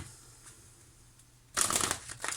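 Large oracle cards being shuffled by hand: near-silence at first, then a loud, close riffling burst of cards flicking against each other that continues to the end.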